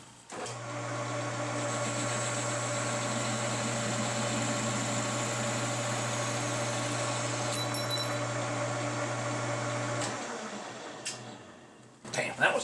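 Lathe parting off a piece with a cutoff tool, a steady machine hum with a humming drone for about ten seconds, then cutting out, followed by a few brief clanks.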